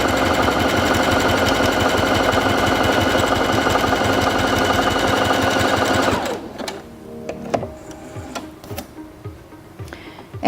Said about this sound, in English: Place the fabric under the presser foot and step on the foot control to begin sewing.